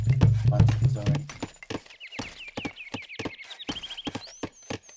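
Horse units moving in Age of Empires: Definitive Edition, with a busy cluster of rapid clip-clop hoofbeats and short game effects, a low rumble at first, then sparser clicks and chirps, fairly close.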